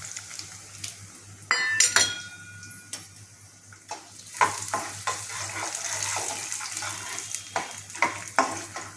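Finely chopped green chillies and peanuts hit hot tempering oil with cumin, crackling and popping in scattered sharp bursts over a soft continuous sizzle, close and fairly quiet, with no voices.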